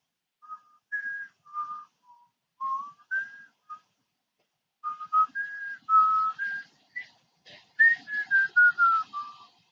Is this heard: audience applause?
no